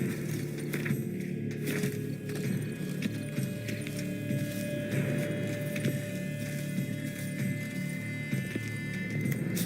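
Horse in The Witcher 3 Blood and Wine expansion, set in Toussaint, with steady hoof clip-clop and faint snorting over a continuous low ambient hum throughout.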